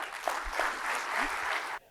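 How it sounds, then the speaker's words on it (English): Conference audience breaks into a round of applause, steady dense clapping that fills the room for nearly two seconds before cutting off abruptly. "Let's give a big round of applause to both of them."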